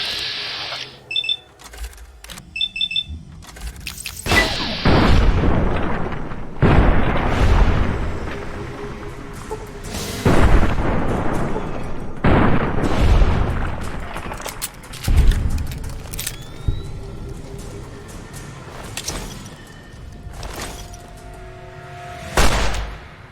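Gunfire and explosions in Fallout New Vegas combat: a string of loud, sharp shots and heavier booms spaced irregularly across the stretch, with clicky mechanical game sounds between them and no talking.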